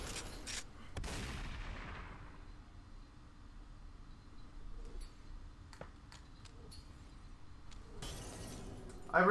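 Uzis fire in the VR game Superhot VR, with a harsh burst of gunfire at the start, scattered sharp cracks in a quieter stretch, and another loud burst near the end.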